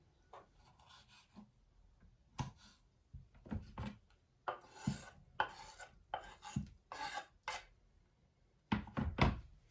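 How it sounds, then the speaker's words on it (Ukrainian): A knife chops tomatoes into small cubes on a cutting board in a home kitchen, making close, quiet knocks in short irregular bursts with brief pauses between them. "нарізаємо дрібненьким кубиком"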